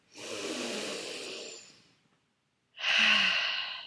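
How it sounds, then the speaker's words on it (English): One long, deep abdominal breath is drawn in audibly, then after a short pause it is pushed out in a slow, close, breathy exhale. "Taking a deep breath in."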